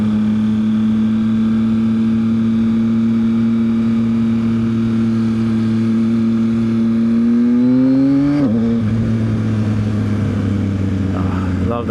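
A 2023 Yamaha XSR900 motorcycle holds a steady, loud engine drone, then revs upward and cuts sharply at a quick-shifter upshift before pulling on at a lower pitch, close to the rider with some wind noise.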